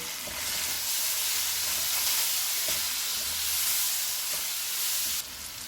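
Vegetables and tomatoes with spices sizzle and fry in a pan for achari vegetable pulao, a loud steady hiss with faint stirring clicks, alone and close.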